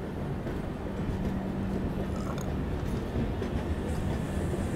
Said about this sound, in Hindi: अपनी ट्रेन जो है निकल चुकी है आरा स्टेशन से